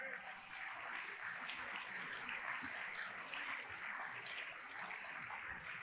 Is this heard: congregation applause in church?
yes